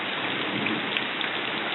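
Steady rain pours down outdoors during a hike, a dense, even hiss of drops that holds at the same level throughout, with no voices.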